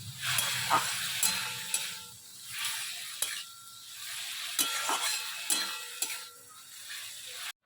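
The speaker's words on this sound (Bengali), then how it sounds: "অনেক দিন পর আমাদের চিংড়ি মাছ হচ্ছে" Shrimp fry in a pan with a soft sizzle while a utensil stirs and scrapes in irregular clinks and knocks, close and fairly quiet, with no talking.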